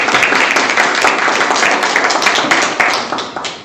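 A church gathering's audience breaks into steady, dense applause, many hands clapping together at close range for several seconds before tapering slightly at the end.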